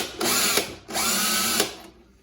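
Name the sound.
drilling a countersink with a countersink bit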